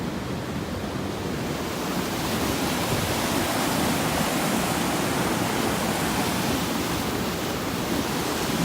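A California Mother Lode river rushes past in a steady, full-bodied hiss of flowing water, loud and unchanging from start to finish with no voices.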